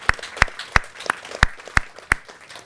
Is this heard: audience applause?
yes